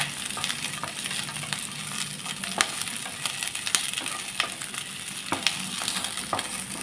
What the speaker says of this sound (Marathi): आणि कांदा थोडा फ्राय करून घेऊया